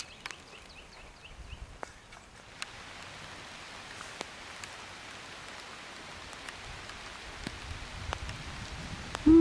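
Steady rain falls outdoors while fishing, a soft, even patter of drops with scattered sharper taps, faint and continuous, ending with a brief louder sound.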